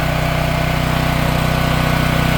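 A Champion dual fuel or Generac 24kW standby generator engine runs during a weekly exercise run, giving a loud, steady, close drone with a low hum and no talk.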